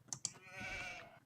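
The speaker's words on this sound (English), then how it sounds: "Alright, some sheep." Sheep bleat in the Age of Empires II strategy game: two short clicks, then one sustained, wavering bleat at moderate loudness, with no talk over it.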